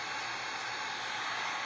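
A hair dryer blows steadily up close to dry paint on a vinyl record craft piece, a loud, continuous airy roar with no breaks and no talking.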